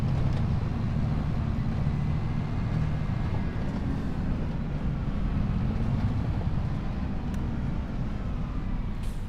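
A combine harvester's engine idles in Farming Simulator 25, a steady, low, droning rumble that holds unchanged and close throughout, with no talk over it.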